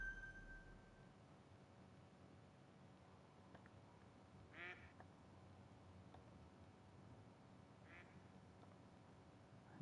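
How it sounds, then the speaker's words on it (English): Ducks in the hunting video game The Hunter: Call of the Wild give a couple of faint, distant quacks over a low ambient outdoor backdrop. "I guess could shoot some ducks"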